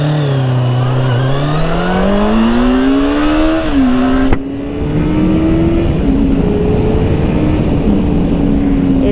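A car on a road approaches and passes close by, its engine tone rising and shifting as it nears, then continuing as a steady, fairly loud drone.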